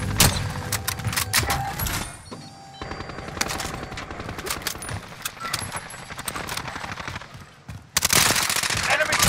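Gunfire in Warzone, the battle royale shooter, including a sniper rifle shot, crackling through dense game noise with repeated sharp bursts, bright hits near the end, and people talking over it.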